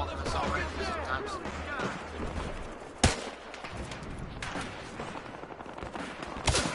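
Pistol fire in the multiplayer shooter Battlefield Hardline: sharp, loud individual shots cracking out amid ongoing battle noise and other gunfire, with a voice talking faintly underneath.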